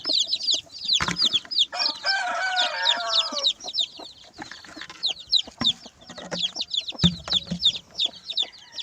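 Brooding hens and chicks on a small backyard poultry setup cluck and chirp nearby. Rapid high peeping runs throughout, and a hen gives a drawn-out cackling call partway through.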